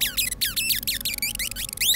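Rats in the video game The Gate give rapid, high-pitched chirping squeaks in quick irregular bursts over a low background hum, loud and close, with no talking.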